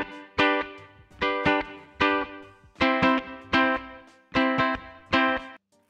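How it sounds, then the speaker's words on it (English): A Populele 2 Pro ukulele's pickup signal passed through its preamp into an audio interface, with a run of evenly spaced strummed chords that sound direct and slightly compressed, each strum sharp at the onset and sustained briefly, with no voices. "But I've also recorded the picked up sounds from the preamp"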